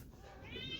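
An indoor house cat lets out a single short meow that rises toward the end, heard close by.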